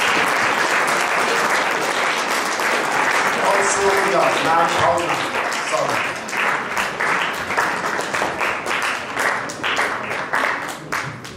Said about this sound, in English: Students, can you please put your hands together and give them a clap?